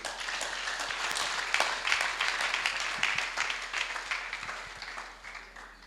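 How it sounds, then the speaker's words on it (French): A church congregation claps as a man comes forward during the service, a dense, fairly loud wash of applause that holds steady and then eases toward the end. "Pendant qu'il s'avance, nous allons applaudir pour lui."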